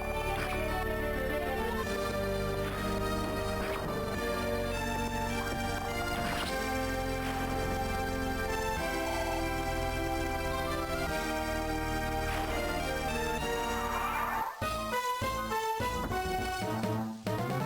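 Dramatic orchestral battle music from a Fire Emblem video game, dense and continuous with driving rhythm and layered instruments, broken near the end by several sharp impact hits.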